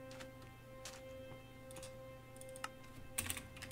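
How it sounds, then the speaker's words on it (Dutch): Rapid clicking of computer keys in short bursts during Minetopia play, close and fairly quiet over a steady low hum, with no voices. "Heel snel typen."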